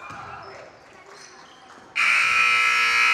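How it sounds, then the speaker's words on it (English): A loud, harsh game-end buzzer blares suddenly and holds steady, following moments of crowd noise and a commentator talking at a girls' high school basketball game in a gym. "And there is the buzzer, folks."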